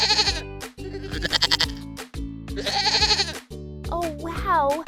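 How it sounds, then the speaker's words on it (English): Goats bleat on a farm in loud, close, repeated calls. The bleats come in quick succession with short pauses between them. "Oh wow, look at those silly goats!"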